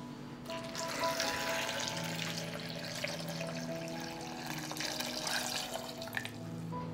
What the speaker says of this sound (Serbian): I na kraju ću dodati litar vode.